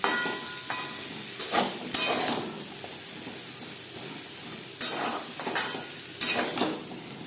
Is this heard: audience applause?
no